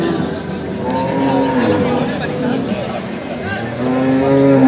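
Buffaloes at a livestock market in Majhwari, Bihar, give low drawn-out moos amid a busy crowd, with several calls overlapping under a constant murmur of voices.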